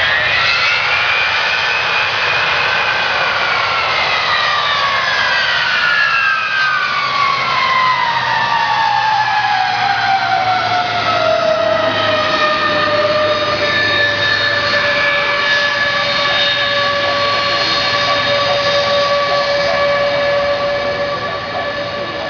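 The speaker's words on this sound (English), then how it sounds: "when they come in for a landing, it's going to get noisy" A U.S. Air Force C-5 Galaxy military transport jet comes in to land at an airshow. Its loud, sustained engine roar holds for the whole stretch, with strong whining turbine tones sweeping downward as it passes close by. No talking.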